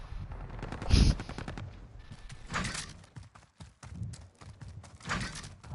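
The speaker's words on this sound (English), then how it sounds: "Mom said it's my turn with the fully automatic pistol" Fully automatic pistol firing in Call of Duty: Modern Warfare, with a loud burst of rapid shots near the start, followed by scattered game noise and faint chatter.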